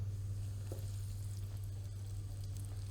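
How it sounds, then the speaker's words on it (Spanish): Lamb shanks frying in hot olive oil in a pan, a steady, even sizzle close up with a low constant hum underneath and no talking. "freír los jarretes"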